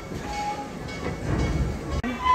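A Busch Gardens Tampa theme park train ride rumbles along steadily with rattling and clattering, a brief dropout near the end before the rolling noise resumes.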